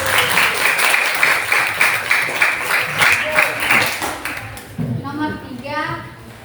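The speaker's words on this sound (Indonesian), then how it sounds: "Tepuk tangan dulu" Applause fills a classroom during a teaching practice session, a burst of clapping that fades after a few seconds before speech resumes.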